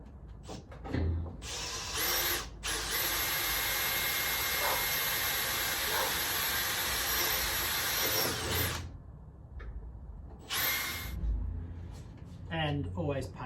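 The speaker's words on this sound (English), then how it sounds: "open that hole up with a larger drill bit at a very low speed" A power drill bores out holes through steel frame metal at low speed, running in one long steady whine of about six seconds with shorter bursts before and after, and a voice talking between the runs.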